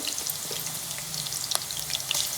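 Onions and ginger garlic paste sizzle and crackle in hot oil for a chicken and fenugreek dish, a close, lively frying hiss with small pops and a bit of stirring, no voices.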